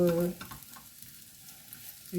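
Food frying in a new pan with lardons about to go in, giving a soft continuous sizzle under brief tonal clatter at the start and end, with no talk.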